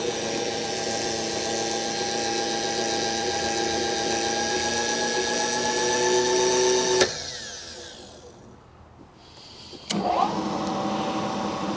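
A lathe taking a light cut on the washer wall of a shock sensor mount, a steady tonal machining whine with ringing chatter that stops abruptly, then spindle noise winding down and restarting.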